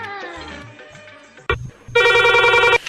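A phone ringtone starts up loudly after a brief thump, a bright electronic trill following a short stretch of quiet tonal sound.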